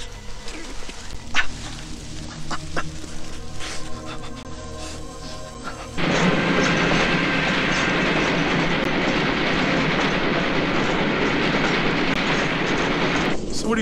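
A train rolls on rails, with a low rumble and creaks under a quiet stretch, then a loud steady rushing clatter takes over for the second half.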